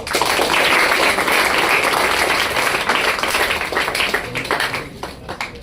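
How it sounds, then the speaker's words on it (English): A crowd at a Teacher's Day celebration applauds loudly and continuously, a dense patter of clapping that slowly thins and softens toward the end. "Guys, clap for Shazan."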